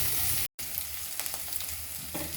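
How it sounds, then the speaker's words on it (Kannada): Green chillies, curry leaves and dry red chillies frying in hot oil in a pan, giving a steady close crackling sizzle that runs throughout with one very short dropout near the start, no voices. "ಇದನ್ನ ಆಯಿಲಲ್ಲಿ ನೀಟಾಗಿ ಫ್ರೈ ಮಾಡ್ಕೊಳ್ಳೋಣ"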